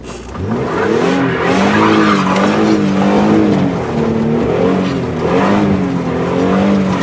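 A Toyota van drives through snow toward a snowbank, its engine droning loud and close with wavering pitch as the tires slip and whine continuously, with no talk.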